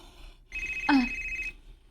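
A cellphone rings once with a steady electronic tone lasting about a second, clear and close in a quiet room, with no talking over it.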